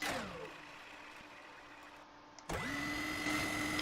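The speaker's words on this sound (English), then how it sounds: "You can see the barrel spins up." Minigun barrel in the Roblox game Mann Vs Machine spinning down, then sharply spinning back up to a steady high mechanical whine that holds loud and close, with no talk over it.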